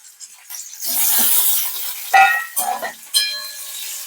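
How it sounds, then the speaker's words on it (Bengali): Cauliflower fries in a pan for a cauliflower and potato curry, a bright hissing sizzle broken by a few stirring scrapes and clinks of a utensil, close and moderately loud with no talking. "এখন করব ফুলকপি আলু তরকারি করব ফুলকপি ভাজছি"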